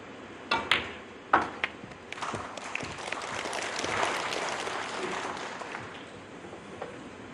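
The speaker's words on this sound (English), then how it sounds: "The crowd acknowledging frame ball." Spectators at a professional snooker match applaud a frame ball, beginning with a few scattered claps that swell into steady, moderately quiet applause before tapering off.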